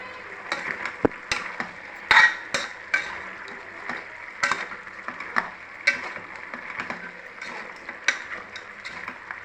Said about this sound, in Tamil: கறி வதங்குது